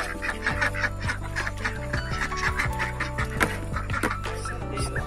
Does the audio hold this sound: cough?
no